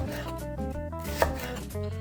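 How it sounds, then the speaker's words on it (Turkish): Steady knife chopping leeks on a board, with light rhythmic taps under layered background music; one sharper knock stands out midway. "Pırasamı doğrayarak başlıyorum işi."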